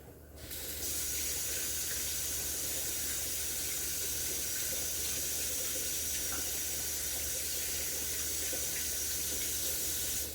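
Kitchen tap running hard while hands are rinsed after coating fish in oil, a loud steady splashing rush that starts almost at once and carries on unbroken to the end.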